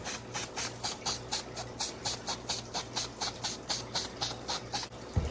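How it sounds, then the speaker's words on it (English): About two dozen short aerosol bursts of mink oil sprayed onto suede sneakers in a quick, even rhythm, each a bright hiss, close by with a low hum underneath. "we're going to go ahead and use some mink oil, spray this around the suede"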